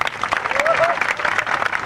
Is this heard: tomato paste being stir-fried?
no